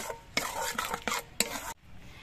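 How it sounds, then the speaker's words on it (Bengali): A spoon stirs a thick spice paste of yogurt, cashews and sugar in a pot, in four or five scraping, clattering strokes followed by a brief pause, close and fairly loud. "চিনিটা দিয়ে নেড়ে চেড়ে মিশিয়ে নেব।"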